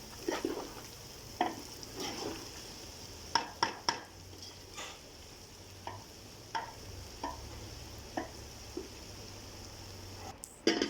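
Fried bottle gourd (lauki) being scooped out of the pan, a run of close scrapes and clacks from a spoon against metal over a faint sizzle, spaced irregularly, without talking.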